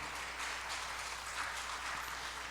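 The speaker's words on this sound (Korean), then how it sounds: "은혜 주신 하나님께 영광의 박수 돌리겠습니다" A church congregation claps together in a faint, even wash of applause that continues steadily throughout.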